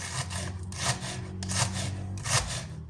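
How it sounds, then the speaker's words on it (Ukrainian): Knife cutting lettuce finely for a salad, a quick series of rasping, crunchy slices in an even rhythm, close and fairly quiet. "Тепер беремо, нарізаємо наш салатик"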